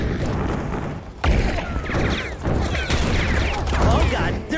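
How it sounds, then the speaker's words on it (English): Gunfire and heavy impacts from the shooter game Serious Sam 4 in a chaotic battle, with loud bursts and booms layered over constant action noise while a player talks over it. "Oh God, they're shooting at me."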